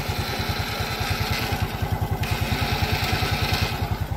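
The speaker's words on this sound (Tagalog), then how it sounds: "Medyo mahina lang yung starter kasi low bat yung baterya" A Honda XRM 125 motorcycle's electric starter cranks on a weak, low battery: a steady, rapid mechanical chugging pulse that runs evenly throughout, close and fairly loud, with no voices.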